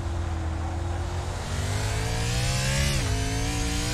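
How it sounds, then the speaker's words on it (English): Race car engine at Sonoma Raceway droning loud and close, its pitch rising steadily before a sharp downshift near the end, then a brief rev back up; steady engine roar with no voices. "And downshifting."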